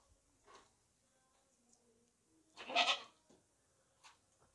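A tall, long-necked, broad-chested sacrificial goat in an unfamiliar place gives one loud, close bleat, with faint rustling before and after.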